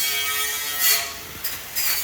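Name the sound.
wire wheel grinding steel trailer frame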